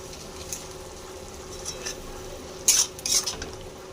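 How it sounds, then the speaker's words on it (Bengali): A utensil stirs and scrapes Kashmiri chilli and turmeric spices in a pan, producing soft scraping sounds followed by a few sharp metallic clinks near the end, close by with a low background hum. "ভালো করে মশলাটা একটু কষিয়ে নেব"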